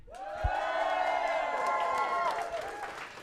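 Live crowd at a women's esports final cheers and whoops in a large venue, a sustained roar of voices with scattered clapping, loud and continuous for a few seconds.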